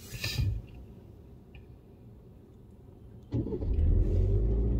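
Car pulling away on a road at night with its high beams on, heard from inside: a quiet engine idle, then the engine rising as it accelerates, with a brief bump at the start.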